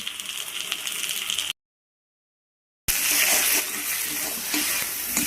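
Water is splashed into ginger, garlic, chilli powder, turmeric and salt frying in a pan for hotel-style egg chilli, giving a close hissing sizzle and bubbling, broken by a brief silent gap before resuming louder.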